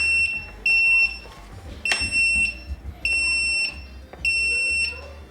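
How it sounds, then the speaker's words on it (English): Loud, high-pitched electronic warning beeps from a 2026 Cricket LT power wheelchair with a brake unlocked repeat in a steady pattern of short bursts, close up, with a faint click and hum between them. "It's beeping X amount of times."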